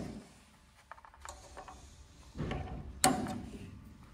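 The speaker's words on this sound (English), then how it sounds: "I'm just gonna strike it a little bit laterally across the face of the rivet." A small hammer taps a sharpened punch laterally across the head of a rivet during rivet removal, giving a few faint clicks and one sharper, close metallic strike near the end.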